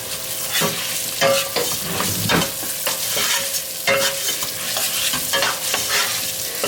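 Arborio rice for a pistachio radicchio risotto is stirred in a hot pan, a spoon scraping in rapid, irregular strokes over a constant sizzle, close and clear with no talking.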